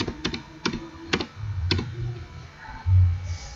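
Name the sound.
pressing keyboard shortcut keys on a laptop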